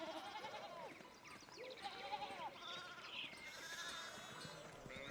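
Sheep bleating in the video game Pentiment, several overlapping wavering calls from a nearby flock over a continuous background ambience, with no talking.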